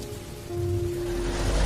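Steady rain falls on a surface at night in a horror cartoon, a soft, even hiss that swells slightly louder partway through, with a faint low tone underneath and no voices.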